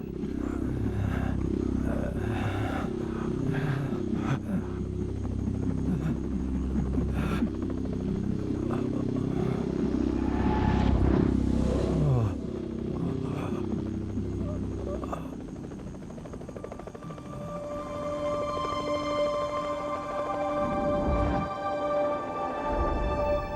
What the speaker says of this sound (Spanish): El helicóptero se acercaba volando sobre la izquierda.